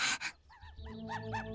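A dog pants in quick breathy bursts, then gives a few short, whiny barks and yelps, close by.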